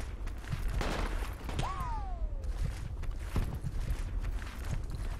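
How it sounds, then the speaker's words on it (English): Scattered gunshots crack at a distance during an infantry firefight in the military shooter game Project Reality, irregular reports over steady ambient noise with a whistling projectile sweep. "Hold on, I'm getting shot at."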